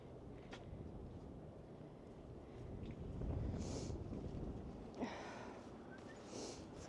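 Strong, gusty wind at a beach buffets the microphone as a steady low roar, swelling in louder gusts with a few brief thumps, and no voices are heard.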